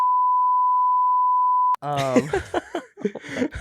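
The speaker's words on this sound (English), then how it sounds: "What was that beep effect?" A steady, loud single-tone beep holds for nearly two seconds, then cuts off abruptly as people start talking.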